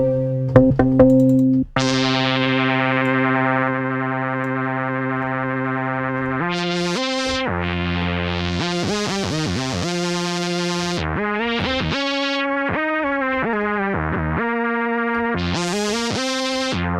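A synthesizer patch in the style of a Korg M1 or Roland D50 plays loud, sustained harmonic chords that shift through sweeping, vowel-like formant changes, with a brief percussive attack at the start and no voices.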